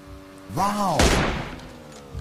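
Gunfire in a first-person shooter battle royale match, a loud burst of shots with a sharp impact, while a player's voice talks over the action.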